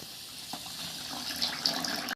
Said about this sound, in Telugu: పాకానికి సరిపడా వాటర్ వేసుకోవాలి.